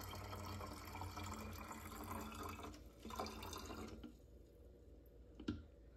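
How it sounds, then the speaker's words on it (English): Distilled white vinegar is poured into a dollar-store plastic spray bottle, a faint continuous trickle and splash of liquid for several seconds that thins out toward the end. "Then we are putting in one cup of white vinegar, distilled white vinegar."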